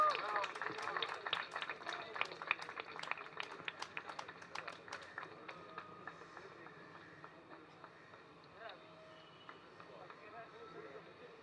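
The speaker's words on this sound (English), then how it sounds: "Loud applause." Dense applause at a Mumbai photography awards ceremony for an award winner, loud clapping for the first five seconds, then thinning to scattered claps that fade under a quieter room.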